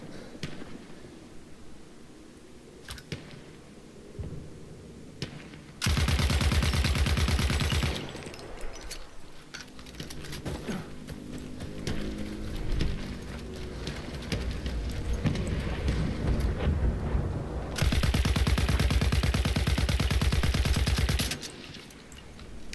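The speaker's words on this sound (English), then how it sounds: "There's another player and a bomber up there that I am shooting with my gun from the ground" Gunfire from the ground at a bomber overhead in the Battlefield 1 game, with two long, loud sustained bursts of rapid shooting separated by quieter stretches of distant battle noise.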